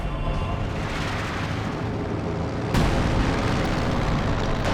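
Artillery barrage in a World War II strategy game, heard as dense rumbling booms and blasts that roll continuously and swell with a sharper impact near the end, loud and close.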